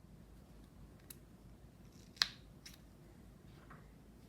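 Scissors snip through a crocheted yarn tail on a mitten: one sharp, crisp cut near the middle with a few faint clicks around it, close and quiet against a soft background hiss.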